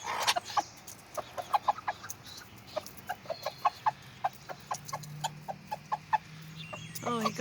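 Bantam chickens cluck softly and repeatedly in short regular bursts while pecking at cicada shells, heard close with a quiet, rustly background.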